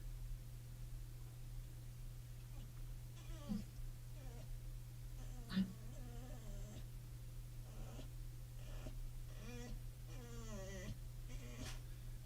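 A cat meows several times over a steady electrical hum, the calls short and spaced out, fairly close and moderately loud.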